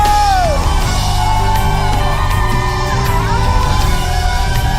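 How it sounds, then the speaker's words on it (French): A church congregation shouts and whoops with cries of joy and victory, loud overlapping voices filling the room over music. "Des cris de victoire au Seigneur."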